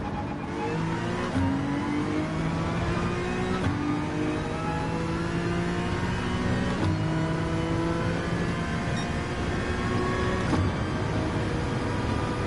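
Honda race car engine in Gran Turismo 7 at Suzuka, revving loudly and steadily climbing through the gears with brief dips at each shift, a close continuous whine alone throughout.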